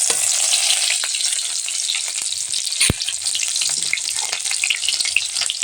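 Ginger and onion frying in hot oil for a cabbage sabzi, a loud, dense crackling sizzle throughout with occasional utensil taps and stirring.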